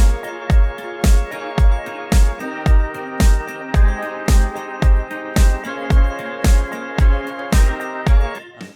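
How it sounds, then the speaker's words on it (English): Sampled drum kit groove from a pop track: punchy kick and snare hits alternating in a steady beat with a closed hi-hat ticking throughout, layered over sustained chordal music, loud and up front with no talking. "So this is the drum kit, and then I have sample drums going as well."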